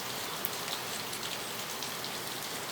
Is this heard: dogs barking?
no